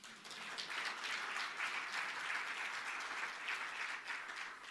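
Steady audience applause at the opening ceremony of a civil society forum, many hands clapping together at a constant moderate level for the whole stretch, with no voices over it.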